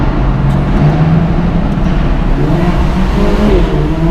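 An Alfa Romeo Giulia accelerates on a German road, a loud, continuous engine roar heard from inside a following car, with tones climbing toward the end and no talking.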